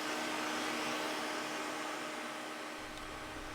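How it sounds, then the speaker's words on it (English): A vacuum cleaner runs steadily and loudly throughout, sucking up excess static grass, a constant whirring roar with no pauses. "we're going to vacuum up the excess grass now"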